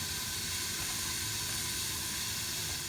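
Water added to a hot pan of onions cooking over low heat throws off a continuous, even hiss of steam, soft and close, with no voices.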